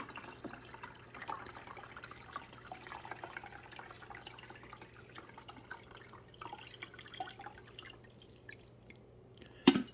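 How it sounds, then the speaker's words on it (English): Water from a coffee pot trickles and splashes into the rear reservoir of a Hamilton Beach smart coffee maker, a slow, uneven dripping pour with a small clunk at the end. "by pouring the water in here, it's going to go to the back"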